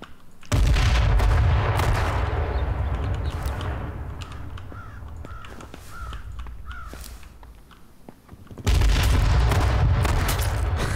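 Grenade blasts and gunfire in the H1Z1 battle royale video game: loud booming bursts at the start and again near the end, with sharp scattered shots and softer rumbling in between.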